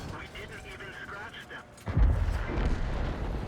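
A tank cannon fires once in a video game, a deep boom with a rumbling tail about halfway through, over an ongoing low mechanical background.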